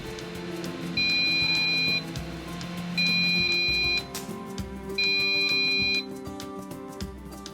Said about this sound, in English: Set the air fryer to 180 degrees Celsius and cook for 30 minutes until crispy.